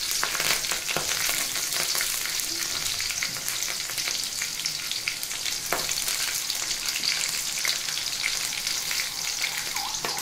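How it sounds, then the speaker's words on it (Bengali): Bay leaf and green chilies fry in hot oil for a mixed vegetable dish, with a continuous close sizzle full of popping crackles and occasional stirring scrapes. "আর দিচ্ছি একটা তেজপাতা। এই তেলের মধ্যে আমি কাঁচামরিচও দিয়ে দিচ্ছি।"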